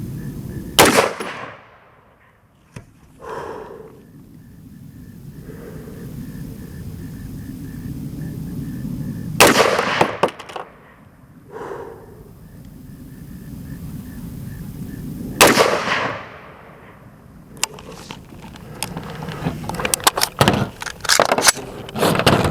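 AR-15 pistol fired while sighting in a Sig Romeo 5 red dot, three loud sharp gunshots spaced several seconds apart, each with a ringing decay, followed by a cluster of clattering handling noises.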